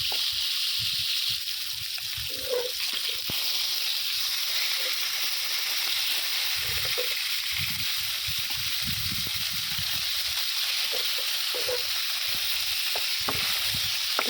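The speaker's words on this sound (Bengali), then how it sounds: "মাছগুলো সুন্দর করে একটু দিকে ভাজা হয়ে গেলে উঠাই রেখে দিয়ে" Fish fry in oil in a pan with a steady, continuous sizzle, punctuated by occasional soft stirring or clinking sounds and no speech.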